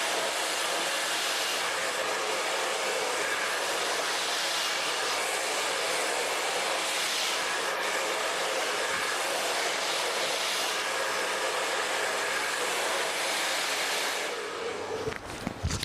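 A hair dryer blows continuously while curly hair is blow-dried with a brush, a steady mid-level whoosh with slight fluctuations, ending in a few clicks and handling noises as it stops.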